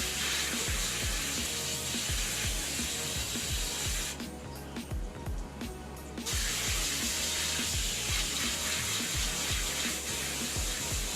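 Tap water streams steadily onto a dirty K&N car air filter being rinsed clean, a continuous close splashing rush that drops out briefly midway before resuming, with soft rhythmic rubbing thuds underneath.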